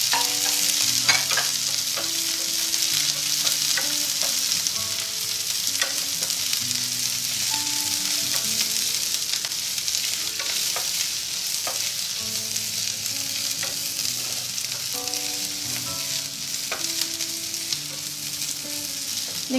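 Garlic, ginger, green chilli and curry leaves sautéing in oil for a bitter gourd pickle, with a steady bright sizzle and repeated stirring scrapes and taps of a spoon against the pan, no voices.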